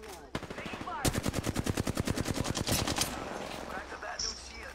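Rapid automatic gunfire in a multiplayer shooter game, a fast burst of evenly spaced shots lasting about two seconds, loud and close, with a few single shots before it and game ambience around it.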